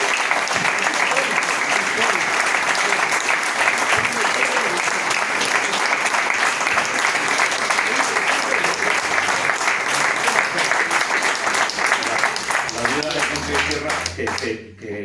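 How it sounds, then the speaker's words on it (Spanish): Loud, sustained applause from a large audience at a bullfighting tribute to a cattle ranch, dense steady clapping that carries through the whole stretch before thinning slightly at the end. "Te queremos dar una ovación de lo más sentida."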